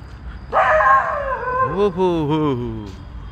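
A street dog in a lane lets out a loud, drawn-out howling yelp that wavers and falls in pitch, followed by a few shorter whiny cries, close by.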